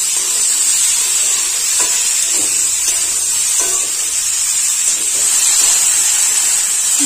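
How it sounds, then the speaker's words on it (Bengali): Green papaya, potato, drumstick and bitter gourd fry in a pan with a constant loud sizzle and hiss, while faint scrapes and taps come from stirring. "3 থেকে 4 মিনিট খুব ভালোভাবে নাড়াচাড়া করে কষাই করে নিতে হবে।"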